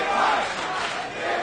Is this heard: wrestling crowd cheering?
yes